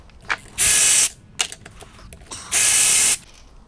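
A ratchet removing perimeter case bolts from a Honda L15B7 Civic transmission clicks loudly in two close bursts, each about half a second, with small tool taps and handling noises between them.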